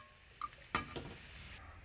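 Grated coconut stirred and roasted in a kadhai while cooking lapshi, with a soft metallic clink of the spoon against the pan and faint frying behind it.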